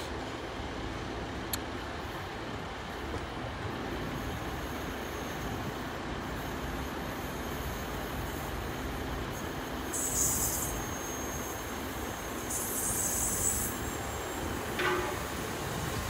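A Great Western Railway train at Dawlish, on the Devon seafront line, rumbles steadily with continuous rail and wheel noise, joined near the end by brief high squeals and clatter.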